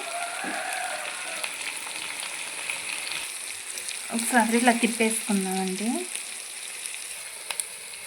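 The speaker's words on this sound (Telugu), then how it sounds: "ఇప్పుడు ఇందులో మనం ఒకసారి ఇలా తిప్పేసుకుందామండి." Andhra-style fish curry sizzling and frying in a pan while it is stirred, a steady crackling hiss with a short burst of voice-like tones midway.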